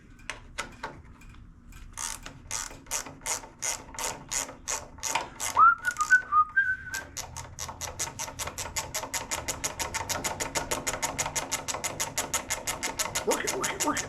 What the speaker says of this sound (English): 10 millimeter, get that air filter cover taken off.